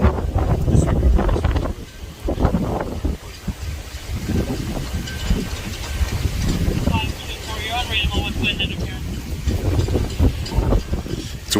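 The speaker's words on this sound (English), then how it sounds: "It's very windy out here." Strong outdoor wind buffeting the microphone in loud rumbling gusts, with people talking intermittently underneath.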